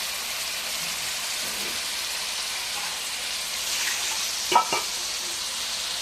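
Chicken leg pieces fry in a pan for a curry with a steady, broad sizzle and crackle, and a couple of brief clinks and stirring knocks come near the end, with no voices.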